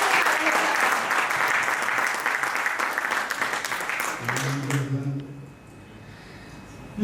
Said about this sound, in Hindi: तो एक बार तालियां बजाइए।